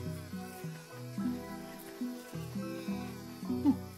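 Bees buzz in the video game Return to Monkey Island, a soft drone woven into a gentle, plucked musical score that carries on quietly throughout.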